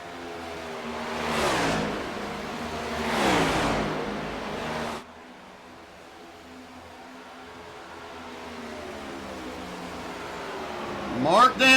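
Several race cars in a sim racing video game run out on track at Auto Club, engines droning and rising in pitch as they sweep past, with a sharp pass-by near the end, loud and steady without talk.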